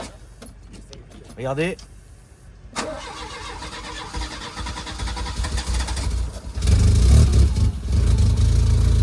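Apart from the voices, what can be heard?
car engine starting after several tries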